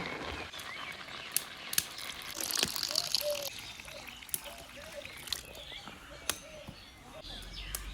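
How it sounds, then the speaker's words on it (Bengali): Water is poured into a pot of boiled lafa greens, a gushing, splashing pour that swells in the middle and then trickles, with faint bird calls and scattered knocks in the background. "এখন জল দিয়ে দিব।"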